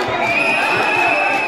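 A crowd cheering and applauding at a foundation anniversary event with a vice-governor present: a continuous dense roar of voices and whoops, loud and sustained, with no gaps.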